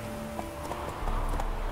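Hooves of the horse Roach clip-clopping in the video game Witcher 3: a steady run of soft, distinct hoof beats at a trotting pace, fairly faint over a low ambient background.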